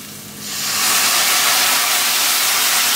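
A sudden loud hiss and sizzle as water hits a hot pan of fried fish curry base, rising sharply and then sustaining as a steady steamy roar.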